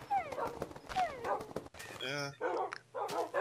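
In Minecraft, a dog barks and yips a few times in short bursts alongside game sounds, with a speaking voice mixed in throughout.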